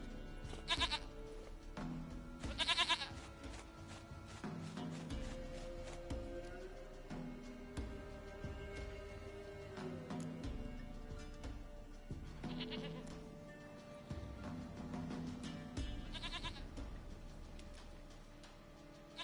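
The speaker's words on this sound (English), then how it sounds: "Goat of mine, dearest, sweetest goat." In the video game The Witcher 3, a goat bleats in a few scattered, sharp calls over a continuous bed of soft game music and ambience.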